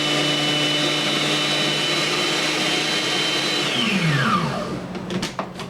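Blender pureeing vegetables runs with a loud, steady motor whine, then winds down with falling pitch and ends in a few rattling knocks.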